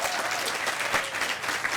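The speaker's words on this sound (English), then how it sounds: "Give a round of applause." A crowd at a groundbreaking ceremony for the Irishtown Bend river stabilization project claps steadily, a dense burst of applause from many hands at moderate distance.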